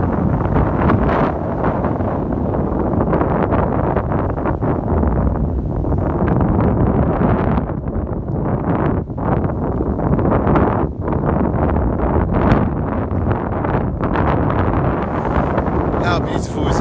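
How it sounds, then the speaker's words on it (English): Strong wind gusting outdoors on top of an old wall, a loud constant roaring buffet against the microphone throughout, with a person talking over it. "the wind blowing in my hair"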